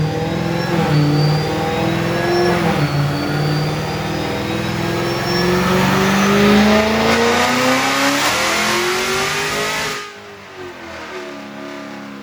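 A 2012 Dodge Challenger SRT Yellow Jacket Edition revs hard on a dyno, its engine pitch climbing steadily for about ten seconds before abruptly lifting off and dropping to a lower drone, loud and close.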